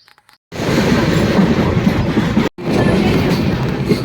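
Sairang Express train running on tracks, a loud steady rumble of wheels on rails heard from inside, broken by a brief dropout midway before the roar resumes.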